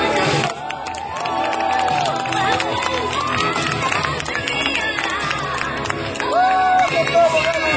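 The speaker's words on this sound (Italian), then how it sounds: "facciamo un applauso" Wedding guests at a castle reception break into loud, sustained applause and cheering, a dense crowd of clapping with lively chatter and voices throughout.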